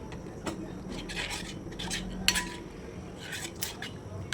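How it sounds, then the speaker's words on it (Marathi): Rice kheer is stirred in a pan over low gas, with repeated scraping and clinking strokes of a spoon against metal at an uneven rhythm over a faint background hum. "थोडं थोडं हलवायचं आहे कमी गॅस करून"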